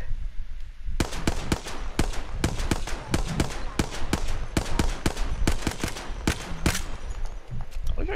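Rapid gunfire from the battle royale game Apex Legends: dense, irregular bursts of sharp shots begin after a second of quiet and crack steadily for several seconds, loud and close, with faint voices now and then.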